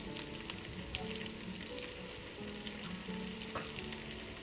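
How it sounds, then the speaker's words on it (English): Garlic fries in a soup pot with a low, steady crackling sizzle and occasional light stirring taps, fairly faint and without voices. "now I'm going to add in some garlic, just for a couple of minutes"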